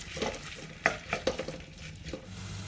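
Sliced ginger fries in oil in a pan, a soft steady sizzle broken by several sharp scrapes and taps of a spoon stirring against the pan, close and moderately quiet.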